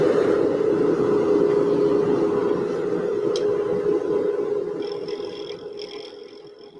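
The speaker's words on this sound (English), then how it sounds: "Blower on." An air blower hums steadily at a pen-turning lathe in a small workshop, a constant broadband whir with a faint high tone entering near the end as the level slowly eases off.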